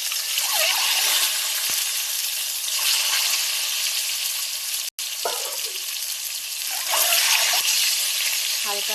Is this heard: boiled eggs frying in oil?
yes